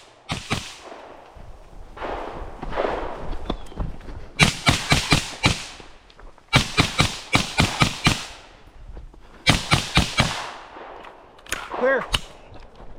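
Gunshots on a two-gun shooting match target course, fired in tight bursts of sharp cracks: a string of shots, a pause, a few more, another string, then a final cluster, loud and close over an outdoor background.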